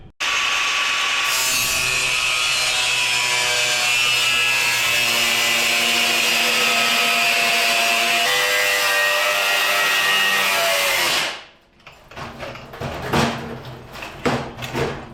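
A battery-powered cutting tool whines loud and steady for about eleven seconds through 2¼ by 1 inch metal stock for rust repair on a 1957 Chevy, then stops, followed by clattering handling sounds.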